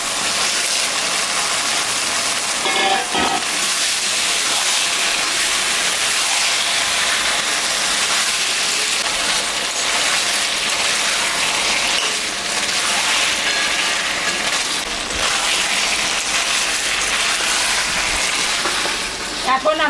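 Native chicken meat dropped into lightly fried spice paste in a pan, giving a steady, loud broadband sizzle and crackle that runs unbroken throughout, with a brief clatter near the start.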